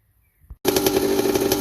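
A 1981 Yamaha YZ80H two-stroke motorcycle engine, a barn find, catches after a brief silence and a faint kick, then runs loud and buzzing with a steady rapid pulse.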